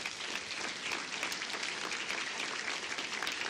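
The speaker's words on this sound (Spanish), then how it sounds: "denle un aplauso a Dios" A church congregation applauding after being asked to clap for God, a steady, fairly distant wash of many hands clapping that holds throughout without voices standing out.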